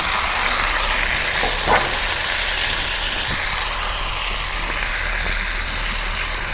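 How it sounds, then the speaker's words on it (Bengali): Chopped onion and ash gourd frying in a pan, a steady broadband sizzle that stays constant throughout, with a faint clink or two of a utensil. "এখন আমি চাল কুমড়া বাগা দিব, পেঁয়াজ কুচি দিয়ে দিলাম।"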